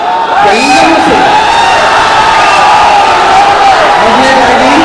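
A large audience shouting, whooping and cheering at a movie trailer launch event, loud and continuous crowd roar with individual yells rising over it, alongside voices.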